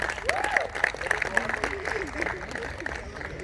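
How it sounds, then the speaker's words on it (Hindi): Loud, sustained clapping from an audience at the trailer launch event for the film Khel Khel Mein, with a voice talking over the applause throughout. "जोरदार तालियां।"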